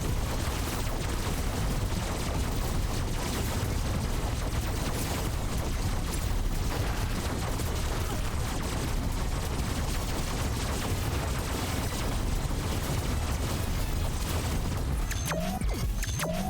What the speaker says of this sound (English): Oh, it's arm cannon.